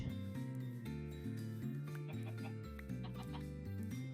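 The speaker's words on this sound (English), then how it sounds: "I don't see any sheep, just chickens" Chickens clucking in the Minecraft video game, quiet and repeated under steady tonal background game music throughout.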